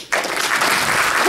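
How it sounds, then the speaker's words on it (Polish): A conference audience suddenly bursts into loud, dense applause after a brief moment of quiet, the clapping continuing steadily to the end. "żebyście nagrodzili siebie i tych wszystkich, którzy przysłużyli się temu sukcesowi ogromnymi oklaskami"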